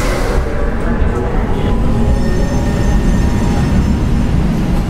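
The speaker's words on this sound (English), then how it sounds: "Down to the subway. I hop the turnstiles." A subway train rumbles along in an audio drama scene, with a loud, continuous low roar and rattle of cars on the tracks filling the whole stretch. A voice is faintly present under the noise.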